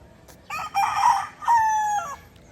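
A stag rooster crows nearby on a farm, a clear drawn-out call rising and trailing off over quiet surroundings.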